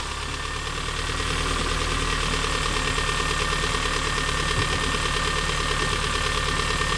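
A MINI R50 petrol engine runs steadily close by, a dense continuous mechanical drone with a slight knocking texture, rising gently as it is revved a little after warming up.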